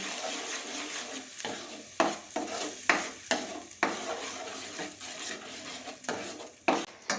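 Misal gravy is stirred in a pot over low heat, a faint sizzle under repeated scraping strokes of a spoon against the metal, about one stroke every second, close and unhurried.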